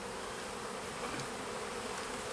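Honey bees buzz steadily at an open hive during an artificial swarm split, a dense, continuous drone that stays close and even throughout with no voices.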